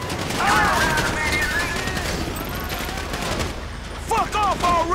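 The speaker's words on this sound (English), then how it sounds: "You hear that gunfire?" Rapid bursts of gunfire crackle through a Grand Theft Auto 5 gameplay scene, loud and sustained, with shouted voices and siren-like wails breaking in over the shooting.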